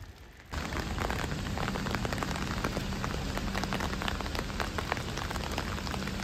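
Steady rain patters densely on a hard surface nearby at a railway station in Ulaanbaatar, Mongolia, a constant hiss with scattered drips, starting abruptly after a quieter moment.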